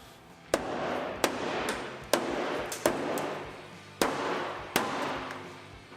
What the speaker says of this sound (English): Let's start with the rubber hammer and we'll go from there.